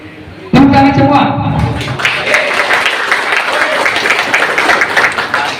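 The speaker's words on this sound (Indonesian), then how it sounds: "Tepuk tangan semua." Audience applause at a community gathering, a sudden burst of dense clapping that stays loud and steady for several seconds, with a little chatter mixed in.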